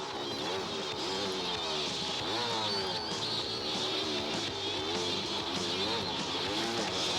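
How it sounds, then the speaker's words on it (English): A motorcycle engine on a tight wooded enduro trail, a continuous buzzing rev that rises and falls with throttle changes, moderately near with no talking. "It's just an excellent motorcycle."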